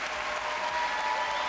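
An arena audience gives sustained, even applause for a pairs figure skating free skate at the Angers 2022 Grand Prix, a dense clapping wash with no break.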